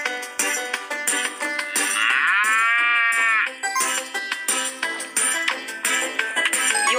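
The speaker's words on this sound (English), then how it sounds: "Meet Molly the cow." A cow in an animal farm video game lets out one long, drawn-out moo in the middle of bright, busy game music and sound effects.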